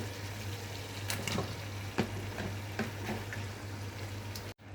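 Beef pieces go into hot masala in a pan for kala bhuna, giving a continuous watery hiss and sizzle with scattered soft clatters and a low steady hum underneath.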